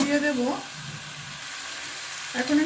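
Shrimp and potato fry in a pan, a soft steady sizzle running beneath a voice that speaks at the start and again at the end.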